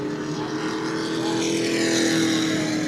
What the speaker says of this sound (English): George Dahm, the 21X, has just gone by us here on the front straightaway